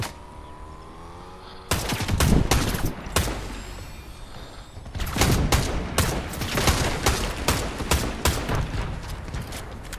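Rifle fire rattles in Fortnite, with clustered bursts of rapid shots, then a pause, then another stretch of repeated shots, sharp and fairly loud.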